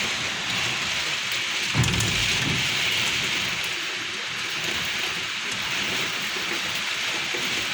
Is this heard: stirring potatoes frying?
no